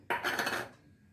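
A single short metallic clink as a spoon strikes a pan while mixing a spice mixture, sharp at the start and ringing briefly before fading, close and alone.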